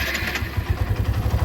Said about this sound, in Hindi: मैं तुम्हें स्टार्ट करके दिखा देता हूँ